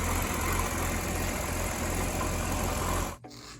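A Chevrolet Corvette C6 ZR1, partway through a rebuild, idles outdoors with a steady, dense engine rumble that holds evenly for about three seconds before cutting off abruptly.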